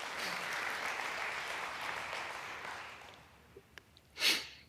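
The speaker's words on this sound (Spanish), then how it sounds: "Le doy un aplauso al Señor por eso." A church congregation breaks into applause, a steady wash of clapping that holds for about three seconds and then dies away, followed by a few small thumps and a brief breathy noise.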